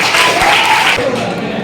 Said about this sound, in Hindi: एक बार जोरदार ताली शहर के लिए